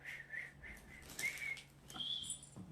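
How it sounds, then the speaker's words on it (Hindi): A few short, shrill whistles ring out near a busy wholesale clothing stall in Delhi, rising over steady background hum and murmur. "सीटी बजा दो"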